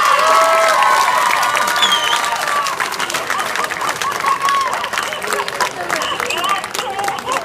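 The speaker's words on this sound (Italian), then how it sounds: "Un applauso in sala!" Applause and cheering from a festival crowd in a hall in Sardara as a raffle winner is celebrated, loud and continuous, with shouting voices mixed into the clapping.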